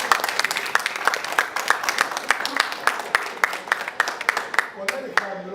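Steady, rhythmic applause from an audience at an academic talk on Argentine industry, sharp individual claps at an even pace for several seconds before tapering off.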